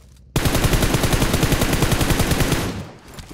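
Sustained automatic gunfire in PUBG Mobile, a rapid, loud burst of shots starting abruptly and rattling for about two and a half seconds before tailing off.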